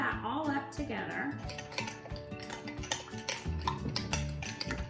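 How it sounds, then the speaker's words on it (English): Butter, garlic and olive oil stirred together in a bowl, with close, busy clinking and scraping of a utensil against the bowl and voices murmuring in the background. "Now just stir that all up together."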